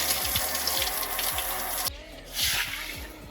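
Tap water runs into a sink while hands are washed beneath it, a steady close stream that cuts off partway, followed by a short gush and drips.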